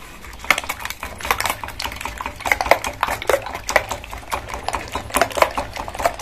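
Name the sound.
mixing beaten eggs with onion, chili and salt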